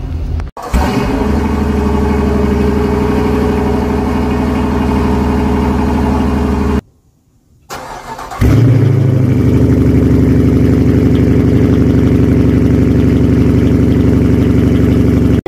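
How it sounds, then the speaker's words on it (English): A 2021 Dodge Durango R/T exhaust idles with a steady, deep rumble, close and loud, briefly cut off midway before resuming with a slightly stronger low burble. "And here's an exhaust clip for you."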